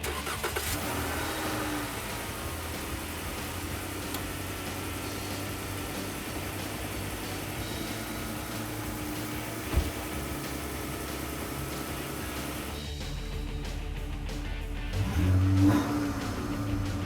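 A 2011-or-newer Dodge Charger 3.6L V6 fitted with a K&N Series 63 AirCharger cold air intake runs steadily close by, then swells into a louder rev near the end, with no talking.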